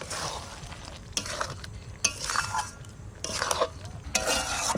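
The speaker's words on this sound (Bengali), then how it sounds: "এবার নাড়াচাড়া দিয়ে নামিয়ে দেবো।" Spinach chicken curry (palak chicken) is stirred in a pan with several rough scraping strokes and soft clinks of the spoon over a low, steady sizzle, heard up close without talking.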